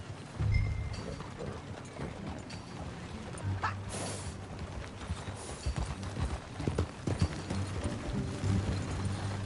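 Horse hooves in Red Dead Redemption 2 as riders set off together, a continuous clip-clop rhythm with creaking tack, fairly loud, with a low engine-like drone behind it.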